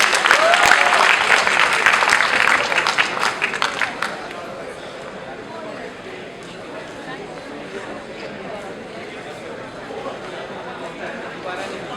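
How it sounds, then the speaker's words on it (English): Loud applause from a college prize-distribution audience for about four seconds, then settling into a quieter murmur of a crowd for the rest. "please do give him a great round of applause"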